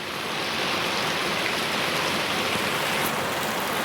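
Steady rain falls during a Sunday motorcycle ride stop, a dense, even hiss of drops close around with no voices.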